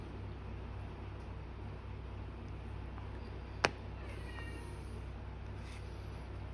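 Cat meowing faintly in the background of a quiet room with a low steady hum, a few soft distant cries and one sharp click, no talking.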